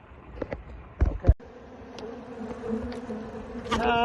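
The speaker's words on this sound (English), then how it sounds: "The bees have built up really well this spring." Bees from an aggressive, well-built spring hive buzz close by, with a rising droning hum and a few sharp knocks and thumps early on.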